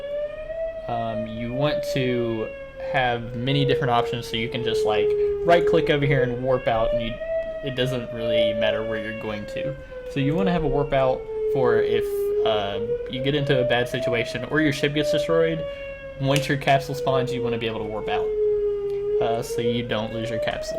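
Storm warning sirens sound outdoors during a thunderstorm warning. The wail rises and falls slowly and continuously throughout, heard under steady indoor talking.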